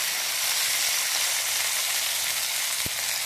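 Steady, close sizzling of onions frying in hot oil for avaram poo chutney, a continuous crackling hiss with one brief knock near the end.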